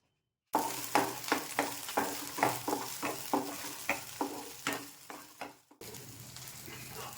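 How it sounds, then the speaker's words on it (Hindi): Food sizzles steadily in a hot pan while a utensil scrapes and stirs in a repeated rhythm, close up, with no voices, as ingredients are roasted before grinding. "चलो मैं पहले ये भून लेती हूँ मिक्सी से।"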